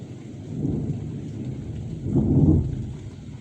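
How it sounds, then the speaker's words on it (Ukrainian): Thunder rolls through a rainstorm in two low, swelling rumbles, the second and louder one peaking near the end over a steady hiss of rain. "і грім тільки що гримів"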